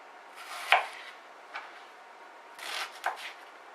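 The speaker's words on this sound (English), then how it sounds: "We're just thinly slicing the onion." A knife thinly slices raw onion on a board: a few sharp close cuts, one crisp chop near the start, then softer scattered strokes with pauses between them, all quiet and without talk.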